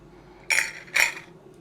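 Metal jar lids dropped into a glass bowl, two bright clinks about half a second apart, close and clear over a quiet background.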